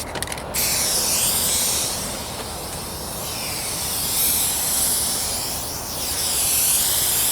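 Aerosol rattle can sprays paint onto the trunk and rear bumper of a 1998 Toyota Corolla, a close, sharp hiss in sweeping passes that swells and fades as the nozzle moves, slightly spitting.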